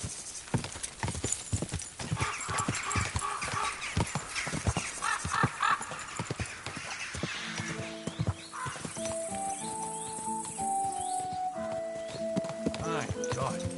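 Horse hooves clip-clop steadily with a whinny in Kingdom Come Deliverance 2, the medieval game, layered under dense sound and talk, followed by a melodic musical passage in the later half.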